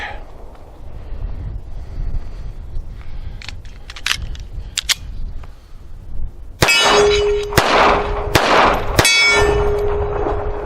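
Four loud, sharp shots from a Taurus Spectrum pistol crack out in quick succession near the end, each followed by a bright metallic ring, after a stretch of quieter outdoor background with a few faint clicks.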